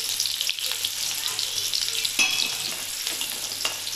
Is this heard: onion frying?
yes